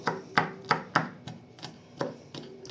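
A knife finely chops crushed garlic on a board for a young-potato dish. About eight crisp, slightly uneven strikes fall over a few seconds, close and distinct, with no talk.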